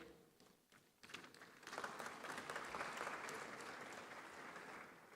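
An audience at the 30th Afreximbank Annual Meetings applauds as panel speakers take the stage, faint clapping swelling after a second into a steady, sustained round that holds to the end.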